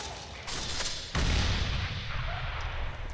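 Gunfire during a Counter-Strike collegiate showmatch between UTA and LSU: a loud burst of shots with a heavy thump partway through, over steady background rumble and fairly distant-sounding bursts, no voices.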